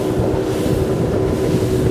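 Boston Whaler 250 Dauntless, a 2023 model boat, speeding up on open water with a steady, loud engine drone and rushing wind and water noise throughout.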